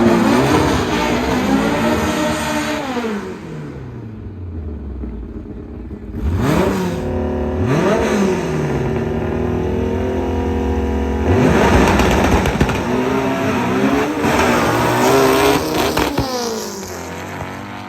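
A VW Bug drag racer makes a full-throttle pass at a drag strip event, engine revving hard with rising pitch sweeps through several sharp gear shifts, loud and close, briefly dropping before surging again.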